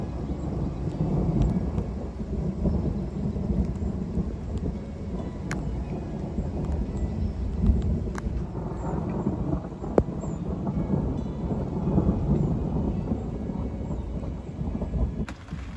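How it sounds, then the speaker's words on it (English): A thunderstorm lashes a canal beside a moored narrowboat, with steady heavy rain and rolling rumbles of thunder that hold on throughout, punctuated by a few sharper cracks. "The thunderstorm's definitely here now."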